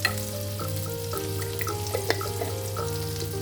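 Beef sticks fry in butter with garlic in a pan, giving a steady, close sizzle with a few sharper crackles and pops scattered throughout.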